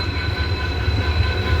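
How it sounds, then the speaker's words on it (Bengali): A train passes close by with a loud, continuous low rumble and a steady metallic drone, and no one speaks. "এটা হচ্ছে ট্রেন"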